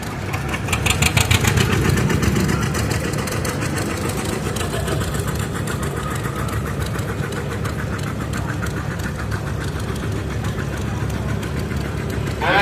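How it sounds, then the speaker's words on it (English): A 1961 John Deere 1010 tractor engine chugs steadily as it runs in a threshing show parade of power, a close, rhythmic knocking putter that continues evenly throughout. "This is a 1961 John Deere 1010"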